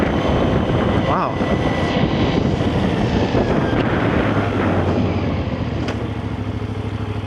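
A Moto Morini Vettore 450 motorcycle engine runs steadily while riding, a continuous rumbling drone heavily mixed with wind rush, with a brief tonal rise late on and no clear speech.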